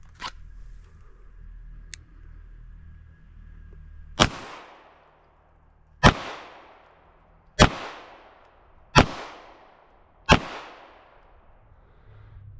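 Five sharp pistol shots fired double action at watch targets, spaced about one and a half seconds apart, each a loud crack with a ringing decay. A faint click comes before them.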